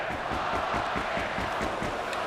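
Festive crowd at an ice hockey arena during an Austria vs. Finland world championship game, a dense, steady roar of many voices cheering without any break.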